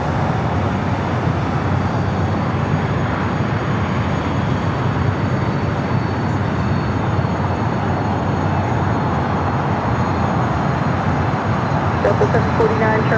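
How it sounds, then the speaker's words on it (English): A Cathay Cargo Boeing 747-8 freighter arriving at LAX, heard as a dense, steady roar of jet engines that stays loud and broad for the whole stretch, with a faint voice in the background. "There's also Queen at Cathay Cargo, flight 90, coming up from Anchorage, a 747-8 freighter, just over downtown."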